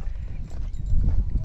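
A mare's hooves clip-clop in a quick, steady rhythm as she carries a first-time rider around a farm, with a soft background rumble.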